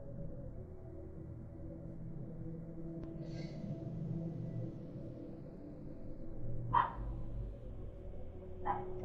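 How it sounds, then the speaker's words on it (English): A neighbour's dog barks next door, a few sharp distant woofs heard faintly over a steady low hum, spaced several seconds apart with no talking. "Next door dog just barked, scared the living daylights out of me"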